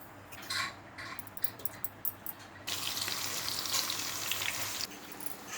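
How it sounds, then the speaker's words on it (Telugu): Sliced onions frying in oil in a cooking pot for chicken biryani, with a steady close hiss and crackle that swells louder midway, punctuated by light clinks at the start. "నేను చేసింది గిన్నె పెట్టుకొని నూనె పోసుకొని ఉల్లిగడ్డ వేపుకోవాలి"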